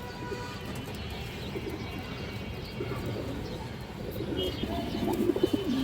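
A pigeon in a cage coos softly and repeatedly against a steady background hum, with the calls growing slightly more noticeable toward the end.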